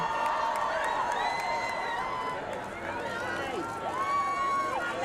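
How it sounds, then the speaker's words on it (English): Large outdoor crowd in Windsor loudly cheering for Princes William and Harry on a walkabout, a sustained roar of voices with whoops and high shrill calls rising and falling throughout. "Enormous cheers as Princes William and Harry make their way back up"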